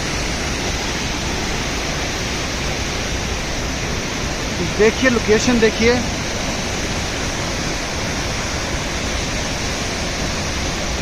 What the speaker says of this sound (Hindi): और ये देखिए झरना बहता हुआ।